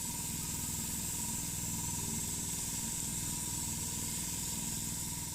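Continuous airy hiss of spray paint laying a light grey coat onto a Corgi Metro model car, soft and even the whole time with a faint steady tone beneath, no voices.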